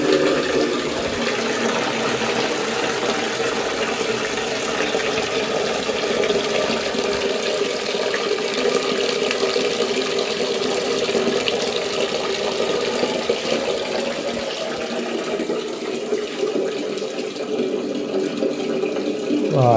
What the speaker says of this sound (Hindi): पानी पे टूटी चला के पानी भर लेते